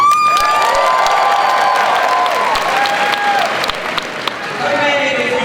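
Crowd at a Comic-Con panel applauding and cheering, a loud, continuous roar of clapping with whoops and raised voices blended into a hall-filling wash.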